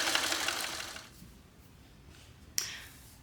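A sewing machine stitching a quilt, a fast rattling run of needle strokes for about a second, then quiet with a brief second burst, heard close with no talking.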